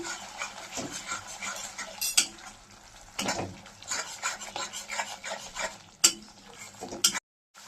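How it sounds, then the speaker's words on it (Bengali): Thick spice paste sweetened with jaggery being stirred in a pan for a tangra fish mustard-poppy curry, a steady scraping and rubbing of spoon against metal with a few sharper clinks, close and alone. "এখন ভালো করে নাড়িয়ে নিচ্ছি।"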